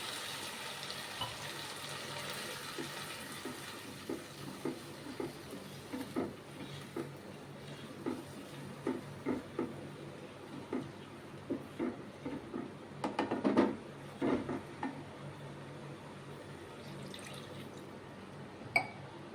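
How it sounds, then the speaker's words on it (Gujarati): Two cups of water poured over rice in a cooking pot, heard as faint, irregular splashes and drips that come in small bursts over a quiet background, with no talking. "ત્યારબાદ પાણી એડ કરીશું."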